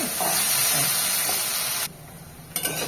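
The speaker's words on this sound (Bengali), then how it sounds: "এবারে ভাজা করছি আলুটা লেগে যাচ্ছে" Potato pieces fry in oil in a wok with a loud, close hissing sizzle for about two seconds before it suddenly drops away, followed by a quick clatter-like burst.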